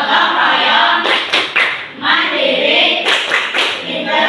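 A classroom of Indonesian pupils doing the tepuk PPK rhythmic clapping chant, with loud group claps in patterned bursts mixed with children's chanting voices, close and lively throughout.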